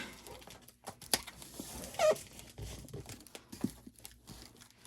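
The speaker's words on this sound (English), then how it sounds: "I'm going to tape him up real good" Packing tape crinkles and rips in quick, close bursts as a heavy, sturdy cardboard PC box is sealed, with scattered rustles and sharp tearing noises at a moderate, quiet level and no talking.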